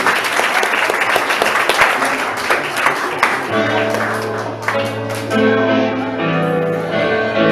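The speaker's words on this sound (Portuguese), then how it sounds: "Os que creem, aplaudam o nome do Senhor Jesus" Church congregation at a family worship service clapping loudly for several seconds, then the applause thins as sustained organ or keyboard tones and voices take over.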